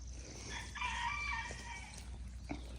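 A rooster crows once during a storm with a microburst, a clear drawn-out cock-a-doodle-doo over a low rumble of wind and rain.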